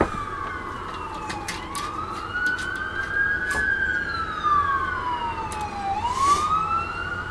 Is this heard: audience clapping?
no